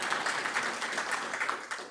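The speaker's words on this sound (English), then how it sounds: "Give Dr. Katie Day a round of applause" Audience applause at a spring convocation, a steady patter of many hands clapping, moderately loud and sustained throughout.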